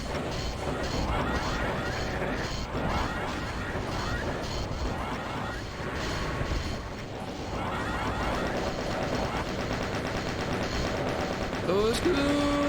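Rapid gunfire and crashing impacts from the shooter game Doom II: Hell on Earth, loud and continuous with dense bursts throughout, ending with a brief rising electronic tone.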